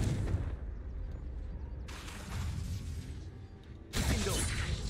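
Confringo fire-blast spell cast in the video game Hogwarts Legacy, heard as sudden loud broadband bursts that erupt over ongoing game ambience, two blasts spaced a couple of seconds apart.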